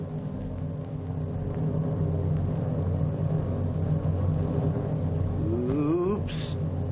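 A 1956 Chevrolet car driving balanced on two wheels gives a steady, loud engine rumble throughout, with a brief rising whine of revving near the end.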